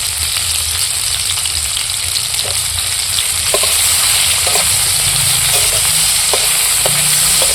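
Garlic pieces fry in a pan of tomatoes and spices, a loud continuous sizzle close by with scattered small crackles and pops, no voices over it.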